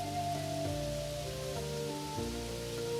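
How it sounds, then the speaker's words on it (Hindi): Steady rain falls outside in an even, continuous hiss, blended with sustained tonal music notes playing over it, no voices present. "बाहर लगातार बारिश हो रही है।"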